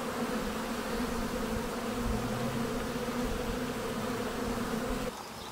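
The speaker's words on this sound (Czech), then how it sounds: "se společenství včely medonosné dostávají do vrcholné aktivity" A honey bee colony at peak spring activity during the rapeseed nectar flow makes a dense, steady buzzing drone. The hum is close and unbroken and thins out only at the very end.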